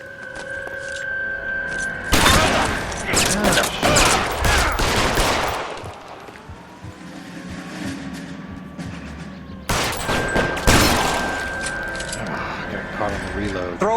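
Shootout gunfire in a video game, with dense bursts of rapid shots in two loud volleys separated by a quieter stretch, while voices talk over the action.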